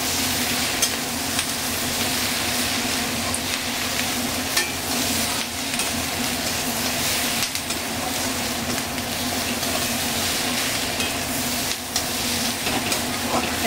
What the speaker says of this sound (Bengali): এটাকে একসাথে একটু ভেজে নিলাম।